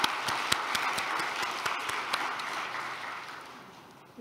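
A congregation applauds the church choir at a year-end thanksgiving service, a dense crowd of clapping with a few sharper claps standing out near the start, fading slightly toward the end.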